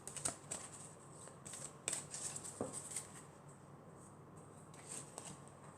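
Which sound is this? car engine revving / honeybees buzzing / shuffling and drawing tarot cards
shuffling and drawing tarot cards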